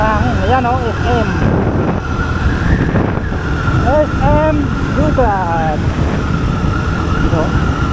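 Strong wind roars steadily over the microphone while riding a Suzuki Gixxer 155 motorcycle through city streets, a continuous loud rush with someone talking over it throughout.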